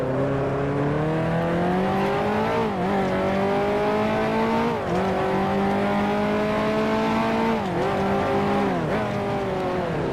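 A 1955 Formula One car at Monaco in Grand Prix Legends, engine holding a steady loud whine that dips sharply with each downshift blip, several times in a row, then climbs again, close and without talk.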